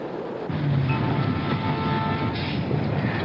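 A commuter train rumbles steadily past in icy winter weather with a loud, continuous roar and faint rhythmic rattling, no voices.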